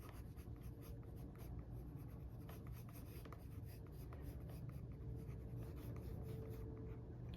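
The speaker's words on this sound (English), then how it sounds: "now at the edge of this, I'm just gonna draw some, okay, some wavy hair." Pencil drawing wavy hair on paper at the edge of a side-view face, a steady close scratching and rubbing of graphite that runs continuously with small rhythmic strokes, no voices.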